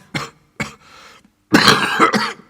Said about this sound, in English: Suddenly the miner began to cough violently, covering his mouth with a dirty handkerchief.